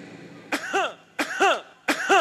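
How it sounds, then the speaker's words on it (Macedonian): Three separate bursts of harsh coughing, spaced about two-thirds of a second apart, each a sharp double hack, loud and close against a quiet room during a henna-night family gathering. "кашлица"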